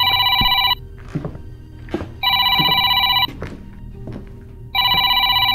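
A telephone in a P.T.-inspired horror video game rings in repeated electronic bursts with pauses between them, while footsteps and soft thuds sound underneath.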